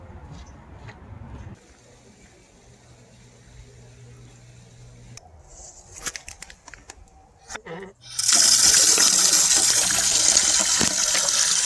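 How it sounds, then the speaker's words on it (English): Water fills a container from the Johnson Rock water spigot in the San Gabriel Mountains, starting with faint clicks and handling noises, then a loud, steady rushing gush takes over for the last few seconds. "After getting my water at the Johnson Rock water spigot"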